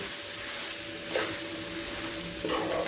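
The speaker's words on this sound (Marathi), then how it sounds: "त्यात आपण चवीनुसार मीठ घालून घेऊया आणि छान अशी आपण ही वड्यांसाठी बटाट्याची भाजी छान परतून घेऊया" Mashed potato filling for vada pav being sautéed in a pan, a soft continuous sizzle with occasional scraping stirs, no talking.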